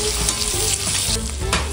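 Onion and capsicum, already partly fried, sizzle and spit steadily in a hot pan for chicken chilli, with occasional stirring scrapes over a loud, continuous frying hiss.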